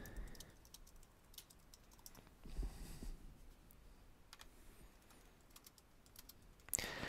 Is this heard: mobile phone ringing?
no